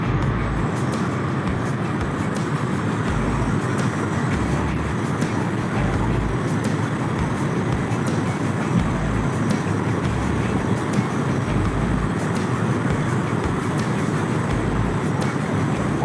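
A Ducati Monster 937 motorcycle rides at steady speed, its engine and road rumble loud and continuous with gear shifts blended into the constant drone, no voices present.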